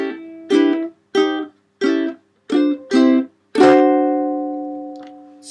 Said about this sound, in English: let's go for the last 2 bars here of the chorus